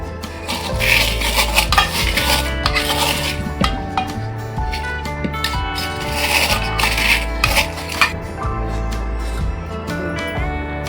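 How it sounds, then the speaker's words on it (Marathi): Fried edible gum (dink) being crushed with a glass in a kitchen, giving repeated close knocks, scrapes and clinks of glass on a bowl over a steady background drone, with no talking. "अर्धी वाटी डिंक आपण आता तळून घेतला तो आपण आता क्रश करून घेऊया ग्लासाने"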